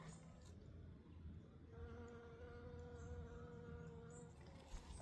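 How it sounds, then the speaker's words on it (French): Bees buzz softly around the listener among aromatic plants, their hum rising and falling as insects drift closer and away over a quiet outdoor background. "Il y a plein d'abeilles aussi là j'entends."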